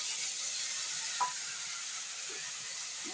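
Onion paste with turmeric and chili paste sautéing for a hilsa curry, a steady broad hiss of frying with a single brief clink of a utensil partway through.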